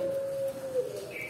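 A Majapahit-type zebra dove (perkutut) gives a drawn-out, pure-toned coo that holds steady and then wavers and fades, with faint background noise.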